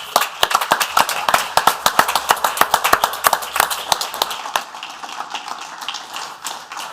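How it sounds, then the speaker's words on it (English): Applause for Rick at a Port Authority board meeting, a small group clapping briskly and close for about four seconds, then fading to a few scattered claps. "I would ask that everybody give an applause to Rick."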